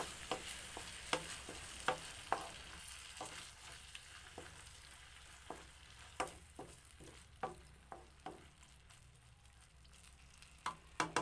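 Corned beef sautéing in a pan, with a steady frying sizzle broken by repeated scraping and stirring clicks from a utensil, close and fairly quiet, no voices.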